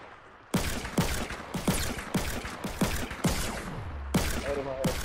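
Gunfire in a video game: a rapid string of loud, sharp shots at roughly two per second with mechanical clatter between them, and excited players' voices underneath.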